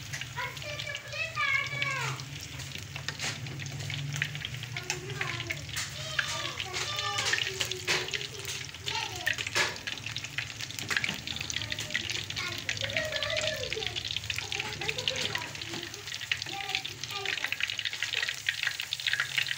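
A gram-flour-coated fish, rubbed with garlic-ginger paste, fries in a pan over a low flame with a steady hiss and sizzle, while someone speaks over it and children's voices sound in the background.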